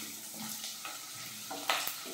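Sliced onions sautéing in oil in a pan, heard as a steady low hiss with soft stirring clatters and a sharper scrape near the end, fairly quiet throughout.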